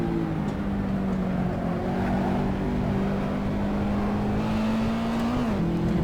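A race car engine in Assetto Corsa at Vallelunga drones loudly and steadily, its tone holding level and then dipping briefly as it downshifts near the end.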